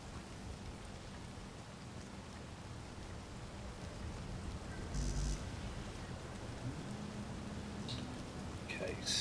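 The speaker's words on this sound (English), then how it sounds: "it sounds like it's raining, but I don't see rain" Rain patters steadily in the survival video game Space Engineers, a dense hissing downpour with a brief louder thump midway and faint clicks, under occasional talk.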